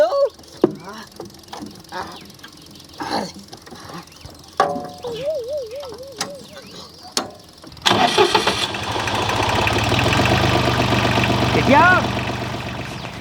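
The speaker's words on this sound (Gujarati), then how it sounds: "એ ટ્રેક્ટર કોને ચાલુ કર્યું" A tractor engine cranks and catches, then runs on in a steady, loud mechanical rumble after earlier talk and scattered voices.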